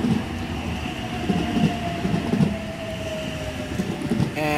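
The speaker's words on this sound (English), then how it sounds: "We have an Oscar arriving into platform number 1 for a Central Sydney Terminal service." A Sydney Oscar electric train with eight cars pulls into the platform at Mount Colah station at night, its rumbling wheels and rail clatter loud and steady, with a rising electric motor whine and a brief squeal at the end.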